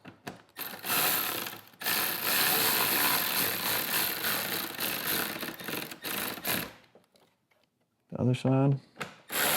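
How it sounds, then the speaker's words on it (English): Ratchet wrench tightening the handlebar bolts on a 2024-2026 Street Glide, dense rapid clicking in long bursts, then a pause before someone speaks briefly. "until you get these bolts tightened up"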